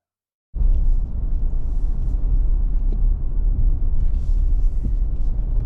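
A 2025 Ram 1500 Tradesman Crew Cab 4x4 pickup on the road, its engine and tire rumble heavy and steady from inside the cab after starting abruptly, with no talking.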